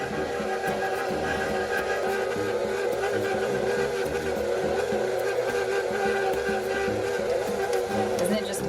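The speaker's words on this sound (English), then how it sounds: "Sometimes I find myself just zoning out watching the mixer spin." A stand mixer kneads bread dough, its motor giving a steady, continuous whir with a rhythmic churning pulse. The sound stays near and even throughout, with a voice talking over it.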